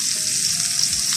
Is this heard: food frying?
yes